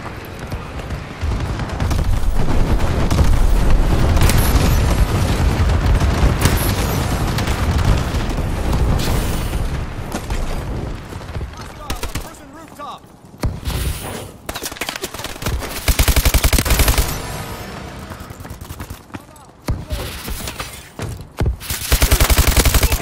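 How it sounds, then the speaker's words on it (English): A friendly bombing run in Call of Duty: Advanced Warfare multiplayer, with dense, continuous gunfire and booming explosions, loud and chaotic throughout and briefly easing before more blasts erupt. "Friendly bombing run incoming."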